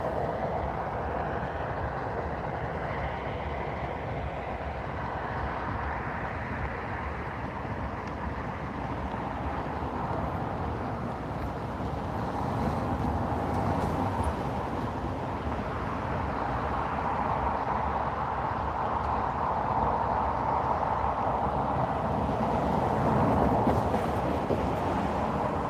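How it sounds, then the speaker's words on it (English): A Norfolk Southern freight train on a southbound line passes a rural railroad crossing, a steady, continuous rumble and rolling roar that holds for the whole stretch and swells slightly toward the end, with some wind noise and no talking. "So, AGS line, southbound, Norfolk Southern, coming at us, guys and gals"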